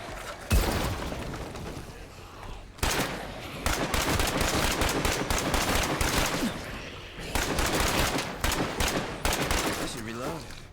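Repeated bursts of automatic gunfire in State of Decay 2 come loud and close, broken by short pauses, with a voice talking briefly between volleys.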